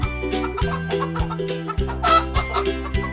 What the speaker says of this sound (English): It's a chicken. They lay eggs.